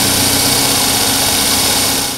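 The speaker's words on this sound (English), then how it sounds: "We have a 3/16 drill bit, and we're just going to drill our own." A power drill with a 3/16 bit bores mounting holes through a metal latch, giving a loud, close, steady whirring grind that holds constant for about two seconds.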